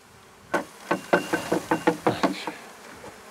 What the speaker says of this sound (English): Shook off a bunch of bees.